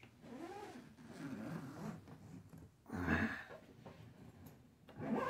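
Zipper on a suitcase from an Excelsior three-piece luggage set, pulled back and forth in several short raspy strokes. The strokes come in bursts at close range, with no talking.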